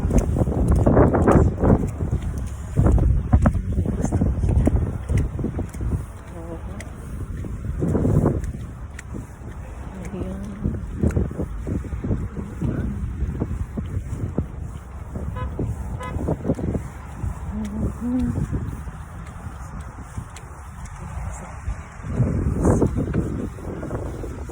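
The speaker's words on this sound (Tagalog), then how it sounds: "Lakas pa ng hangin." Strong wind during a snowstorm buffets the microphone in loud, gusting roars that rise and fall, with faint traffic and a car horn in the background.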